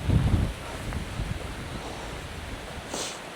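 Gusty wind at Easedale Tarn in the Lake District buffets the microphone, a loud rumbling burst at first, then a steady rushing roar that continues on its own.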